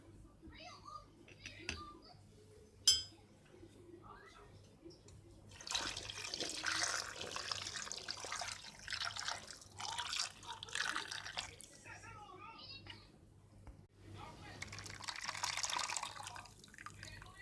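Tomato paste sauce thinned with hot water and a little olive oil is poured over stuffed peppers, a soft continuous splashing and trickling in two stretches, close and fairly quiet, with faint voices nearby.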